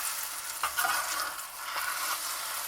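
Eggs with cheese and spinach cook in a hot skillet, a soft continuous sizzle broken by a few gentle scrapes as the mixture is turned, with no voices.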